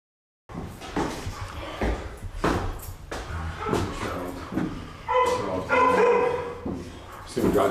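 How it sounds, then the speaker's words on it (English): Several dogs bark excitedly in quick irregular bursts, fairly close, with a jumble of household clatter and some voices mixed in. "See, we got the dogs crazy."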